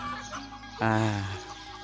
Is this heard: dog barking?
no